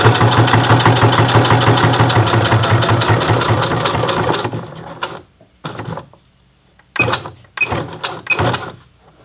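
A Singer Heavy Duty 6800C sewing machine runs a fast, steady stitching burst for several seconds, then stops and gives a few short, separate bursts of stitching with quiet pauses between them.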